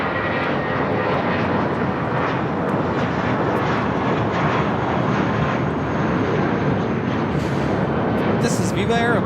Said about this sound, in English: This is Viva Aerobus, flight 513, taking off to Guadalajara on the A320